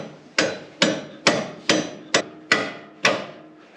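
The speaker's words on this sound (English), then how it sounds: "I need a hammer." A hammer strikes a metal part eight times in a steady, evenly spaced rhythm, each blow a sharp, loud, close impact with a brief ringing decay and no voices.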